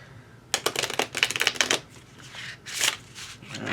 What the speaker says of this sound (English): I'm just gonna shuffle them